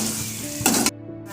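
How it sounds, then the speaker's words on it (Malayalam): Tomatoes go into sautéed onions in a hot pan, giving a loud close sizzle that swells briefly as they are stirred, then settles back to a steady frying hiss. "തക്കാളി ഇട്ട് കൊടുക്കാം. ഒന്ന് മിക്സ് ചെയ്യാം."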